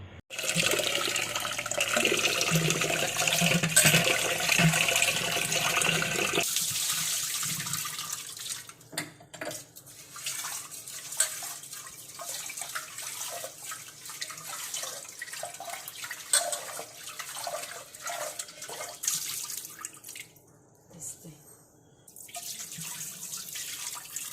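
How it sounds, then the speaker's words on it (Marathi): Rice grains being washed in water in a home kitchen, beginning with a loud rush of running water, then quieter sloshing, swirling and dripping as the rinsing continues. "ह्या तांदळात तीन चार वेळा धुवून घ्यायची"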